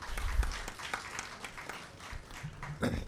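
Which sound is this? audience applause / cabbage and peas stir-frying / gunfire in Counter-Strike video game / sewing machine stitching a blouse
audience applause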